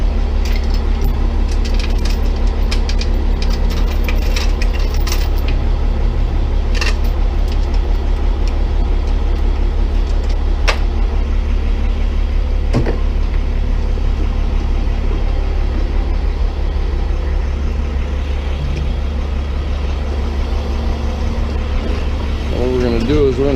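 A tow truck fitted as a can crusher, its engine running steadily throughout with a constant low drone, with occasional crunching and clanking knocks over it and voices talking now and then.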